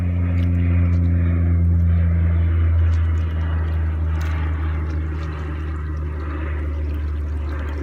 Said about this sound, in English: Awareness of the sound of the plane.